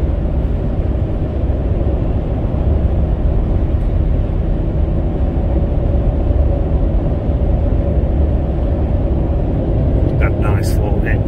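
A 2005 Ford F150 XLT with the 5.4 Triton engine, towing a light load, merges onto the I-75 freeway. It gives a steady, loud low rumble of engine and road noise with no pause from start to finish.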